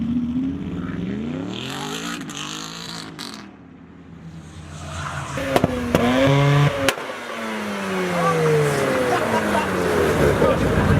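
An Audi R8 exhaust roars and revs as the car sweeps past, its pitch rising and falling, with a couple of sharp cracks and a second pass that builds to a loud, rushing finish.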